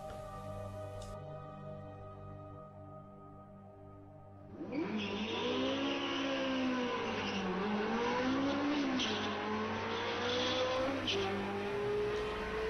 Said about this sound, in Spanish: Este auto eléctrico, por ejemplo, somete hasta una Ferrari de carrera